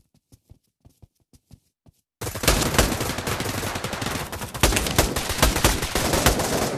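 Gunfire in the VR shooter Pavlov during a search-and-destroy round: a few sparse, faint single shots give way to a loud, dense barrage of rapid automatic fire that continues to the end.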